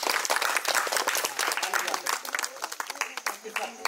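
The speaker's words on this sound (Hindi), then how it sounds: "ताली बजाते हैं" Students and teachers clap together at a school farewell function for a teacher, a bright, dense, fairly close burst of clapping that goes on for a few seconds, with voices mixed in.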